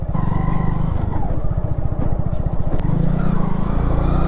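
Motorcycle riding along a rough dirt village road past mustard fields, its engine a steady close putter throughout with a low rhythmic chug and no talk over it.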